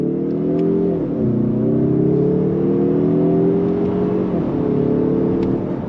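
A 2023 Mazda 3 Turbo hatchback accelerates from a standstill, its engine note rising steadily through the gears with brief dips at each shift, loud and close from inside the cabin.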